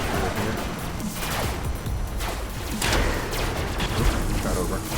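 Artillery guns fire in the robot-building combat game Robocraft: dense, overlapping volleys of booming shots and mechanical clanks, loud and continuous, with someone talking over the barrage.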